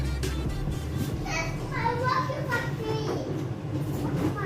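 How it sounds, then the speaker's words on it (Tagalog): Children at play fill a busy, echoing indoor space in Hong Kong with overlapping chatter and shouts, and a low rumble runs underneath. "Ingay ng mga bata,"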